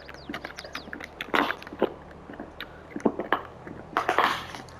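A dog gnaws on a yak chew stick, giving irregular crunches and bites in quick bursts, fairly close and without any talking over them.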